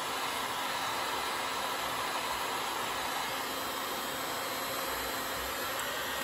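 An electric motor from a Toyota Prius Gen 3 EV conversion spins steadily, a faint continuous whirring hiss with a constant pitch and no talking.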